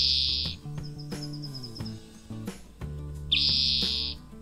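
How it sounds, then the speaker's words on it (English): A short spotted towhee song: a couple of sharp notes followed by a buzzy trill, repeated twice over background music. "listen to the simple song of the spotted towhee that sounds like a buzzing chazee"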